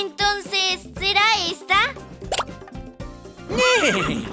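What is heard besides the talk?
horse neighing sound effect in children's song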